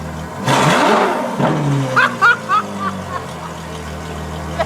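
A straight-piped Ferrari F12 V12 revs hard, a loud rising howl that sweeps up and falls away, followed by several short sharp blips and crackles as the engine settles toward idle.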